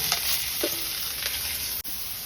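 Vegetables stir-frying in hot oil for beef char kway teow give a loud, steady sizzle with light stirring scrapes throughout, cut off by a brief dropout near the end.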